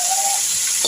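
Onions and chickpeas fry in a pan with a steady, loud, close hiss of steam and sizzle that holds even throughout the brief moment.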